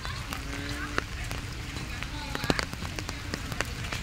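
Rain falling steadily in a park, a dense patter of drops on surfaces with scattered louder splats, while a person speaks over it.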